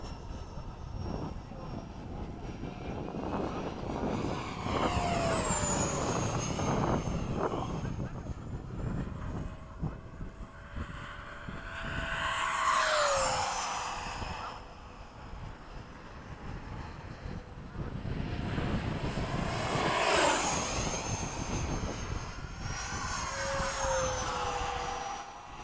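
Freewing F-5 and 90mm F-22 RC jets fly formation passes at dusk, their ducted-fan whine swelling and fading with Doppler sweeps as they go by, amid wind noise and occasional voices.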